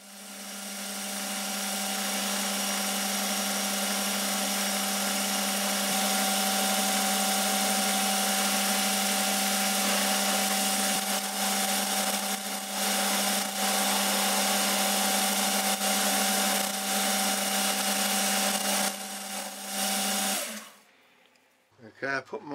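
Metal lathe turning an edge finder probe part, a loud continuous whining hum with a steady tone and faint intermittent cutting scrapes, lasting about twenty seconds before spinning down.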